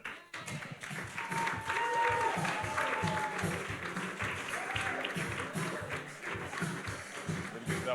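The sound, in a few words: applause for award winner Paulette Watson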